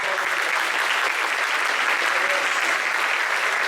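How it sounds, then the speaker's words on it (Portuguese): Steady, dense applause from a church congregation at an evening teaching service, many hands clapping evenly and continuously without a break. "Uma salva de palmas."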